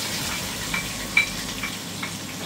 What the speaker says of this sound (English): I'm going to pour my onions in the remaining of the oil that I use in frying the beef.